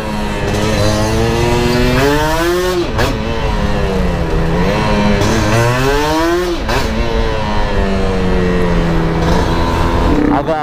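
Kawasaki Ninja SS 150cc two-stroke motorcycle accelerating hard, its high buzzing engine loud and close, climbing through revs with brief dips at gear shifts, sustained the whole time.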